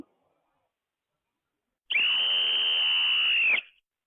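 A single steady whistle blast, shrill and sustained for under two seconds, after near silence.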